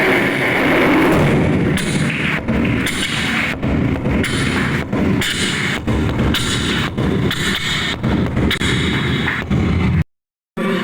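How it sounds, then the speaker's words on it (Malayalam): Fireworks display set off at a 150th jubilee closing celebration, a loud, dense barrage of rapid bangs, booms and crackling bursts close by that continues without pause before cutting off abruptly. "നമ്മുടെ 150യുടെ ഗംഭീര വെടിക്കെട്ടിലേക്ക് തിരികൊടുക്കുന്നു"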